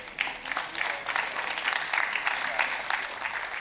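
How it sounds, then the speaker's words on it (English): Audience applause for panelists invited on stage at an AI in insurance and healthcare panel, a steady wash of many hands clapping at moderate loudness throughout, with no speech over it. "Ladies and gentlemen, a bigger round of applause."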